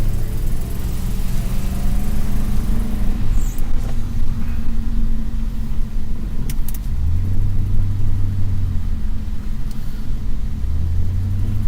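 A diesel truck pulls away nearby, a steady low engine rumble with shifting tones as it accelerates off, continuous and fairly loud throughout, with light rain in the background.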